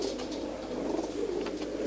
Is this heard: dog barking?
no